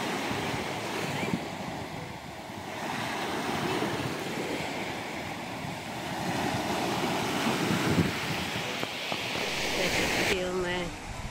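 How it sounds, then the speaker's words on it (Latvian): Sea waves break diagonally on a shore in Sicily, a continuous rushing surf with wind buffeting the microphone, close and fairly loud, with a voice briefly heard toward the end. "Viļņi iet pa diagonāli ieslīti."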